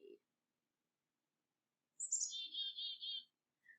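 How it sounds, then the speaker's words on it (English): Black-capped chickadee calls play from a recording: a brief high note, then a quick run of clear, buzzy chick-a-dee notes and a final faint chip, separated by silence. "this is a black-capped chickadee"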